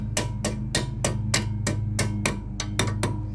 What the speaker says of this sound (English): Long reach hammer works every time.